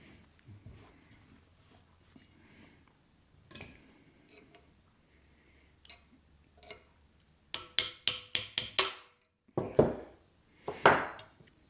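A run of sharp metallic taps, about half a dozen in quick succession, followed by a few louder knocks, as parts are tapped out of a Hopkins & Allen underhammer gun during disassembly, close up with no talking.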